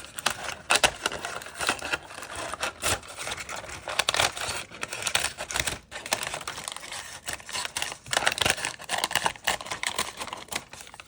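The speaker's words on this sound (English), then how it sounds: "I'm just going to cut this bottom part off right here" Scissors cutting the bottom off a paper bag, a fast run of crisp snips with crinkling and rustling paper, close and steady for the whole stretch, no talk.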